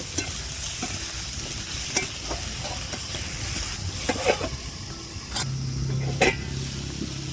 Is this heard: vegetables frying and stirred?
yes